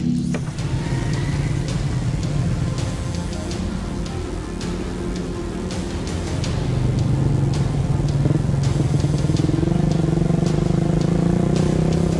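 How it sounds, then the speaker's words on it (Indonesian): Modified motorcycles ride along a rural road near Bandaralam Lama, Kisam Tinggi, with engines droning and revving steadily close by, the noise swelling as more bikes pass. "Motor yang digunakan rata-rata sudah dimodifikasi untuk melintas di jalur yang akan ditempuh."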